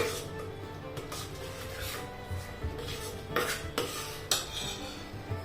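Metal utensil scraping and clinking against a pressure cooker as food is stirred and sautéed, with a few sharper knocks standing out over a steady low background hum.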